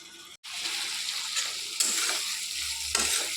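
Masala for a Bengali pointed gourd and prawn dish being sautéed in a pan, a steady broadband sizzle with occasional scraping stirs and a brief dropout early on, close and continuous with no talking.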